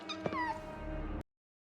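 A cat meows in an anime episode, one clear rising and falling cry close up, followed by a sustained tone, with no talking.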